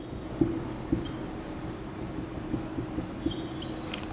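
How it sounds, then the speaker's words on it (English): A pen writing on paper during a maths lesson, with faint scratchy strokes and a few soft taps spread over a few seconds, quiet and close against a low steady room hum. "we have to write here"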